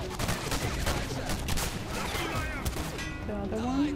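Dense gunfire from the video game Singularity rattles in a steady, loud burst of rapid shots, with a voice speaking over it.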